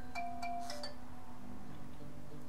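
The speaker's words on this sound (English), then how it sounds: "My phone is ringing." A phone ringtone plays a few bright chiming tones up front, then fades into a quiet hum with no talk.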